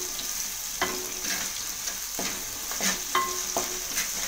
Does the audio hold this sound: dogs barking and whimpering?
no